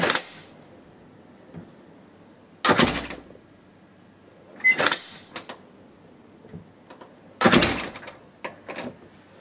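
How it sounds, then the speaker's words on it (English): Door opening while a Sensative Strips Z-Wave window/door sensor is tested: several loud, sharp thunks and knocks spaced over a few seconds, with quieter mechanical rattles between them and no talking. "let's open the door and see what happens"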